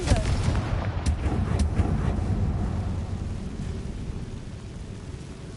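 A Confringo explosion spell from the video game Hogwarts Legacy erupts in a loud, booming blast with sharp cracks early on, then rumbles and fades into a sustained low roar.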